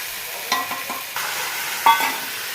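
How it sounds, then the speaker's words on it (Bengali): Spiced potatoes for Kashmiri aloo dum being stirred and coated in a pan, with a few soft scraping strokes and a brief louder clatter near the end over a faint sizzle, and no talking. "এরপর আমি মশলাটা আলুগুলোর সাথে ভালোভাবে মাখিয়ে নেব।"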